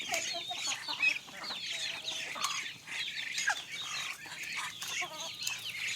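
Free-range village chickens cluck and chatter in a steady, busy flock at close range, with layered overlapping calls throughout and no talk over them.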